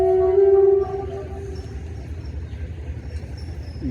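Express train led by a DEU-20 diesel locomotive arriving at Badamibagh station, with a steady horn blast at first, then a low continuous rumble of the train rolling in close by.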